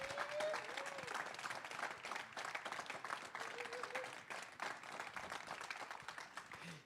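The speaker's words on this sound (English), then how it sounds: "Another round of applause." An audience at an NAACP president swearing-in ceremony breaks into steady, sustained applause, a dense wash of clapping heard from some distance and continuing for several seconds.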